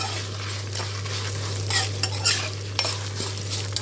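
Chillies crackle in hot oil in a pan, a steady close sizzle broken by scraping stirs and a few sharper pops.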